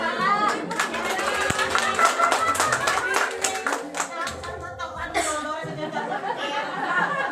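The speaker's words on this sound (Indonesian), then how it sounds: "Betul, tepuk tangan" An audience claps in a training session on child neglect and exploitation, dense rhythmic clapping mixed with some chuckles and people talking over it, tapering off near the end.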